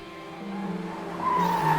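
A Kia EV6 GT pushed hard around a racetrack, its tyres squealing in a sustained, rising screech over the hum of the car, growing louder toward the end.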